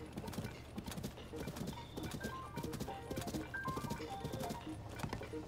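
Horse hooves clip-clop steadily in Zelda: Tears of the Kingdom, a quick continuous trot with faint game sounds and soft chimes over a low background.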